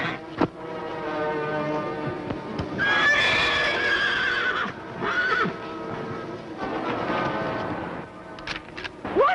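A horse in a 1950s Western TV series neighing and whinnying loudly in repeated shrill cries, with hoof clatter and commotion around it.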